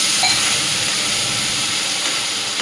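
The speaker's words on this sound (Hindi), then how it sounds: "अब मैं क्या करूँगी, मैं 1 गिलास पानी ऐड करूँगी।" Water poured into a hot pan while cooking sabudana khichdi for a fast, a steady close sizzling hiss that runs unbroken at even loudness throughout.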